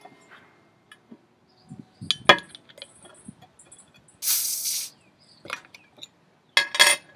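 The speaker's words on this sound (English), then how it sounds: "I'm going to crack one of the IPAs so you can see." A home-brewed IPA can is cracked open and the beer poured into a glass, with a sharp hiss burst mid-way, scattered clinks and fizzing, and a few short bursts of handling noise, fairly close and without talk.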